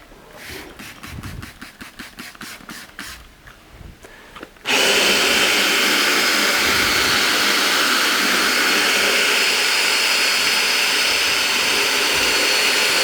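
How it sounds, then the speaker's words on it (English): A power drill spinning a 2-inch brush attachment scrubs car interior carpet, starting with a few short stuttering bursts, then a loud, continuous whirring scrub that runs steadily to the end. "we'll do a quick demo of it with a drill as well, and you can see how it does get into that pile"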